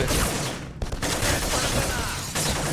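Dense gunfire from the video game Black, a continuous burst of rapid shots filling the whole stretch, loud and close with a brief dip near the start.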